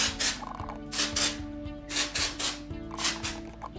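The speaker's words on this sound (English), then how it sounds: "I just lift from the back and just spray that right in there." Hairspray misted onto curled hair in short repeated hissing bursts, about six close, bright sprays with brief pauses between them, with no talking.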